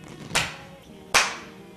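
Two sharp, loud hand claps ring out close by on a quiet interview set at the start of filming, spaced under a second apart, each with a brief decaying ring.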